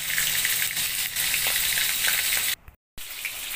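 Mackerel fries in a pot of hot oil with a loud, steady hiss and crackle that cuts out abruptly near the end and then returns.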